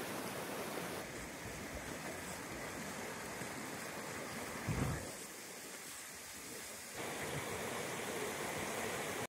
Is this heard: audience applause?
no